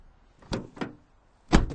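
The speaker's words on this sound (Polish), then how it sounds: "Nie ma takiego jakiegoś ostrego basu przy zamykaniu drzwi, ale też nie ma rezonowania" A rear door on a 2008 Mitsubishi Lancer 1.8 is pulled shut: two softer handling thumps, then one firm closing thud with a short latch follow-up, close by and with no talk.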